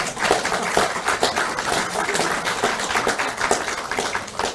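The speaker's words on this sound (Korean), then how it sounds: "맞으면 박수를 보내주시기 바랍니다." Scattered clapping comes from an audience at a political speech, uneven and moderately loud, with individual claps standing out rather than merging into a full ovation.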